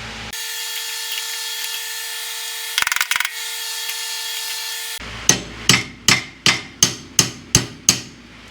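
Eight sharp metallic hammer blows on a Mercedes M117 engine part during valve guide removal, in steady rhythm, close and loud, following a stretch of steady mechanical whine with a brief rattle.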